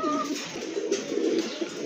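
A pair of large Lahori pigeons coo continuously in a low, soft murmur at close range, with a faint steady hiss behind them.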